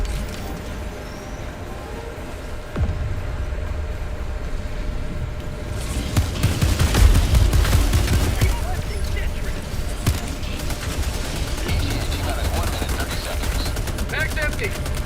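Sentry turret in the video game Helldivers 2 opening fire with rapid automatic bursts amid other gunfire and booms, loud and sustained, with voices talking over the shooting.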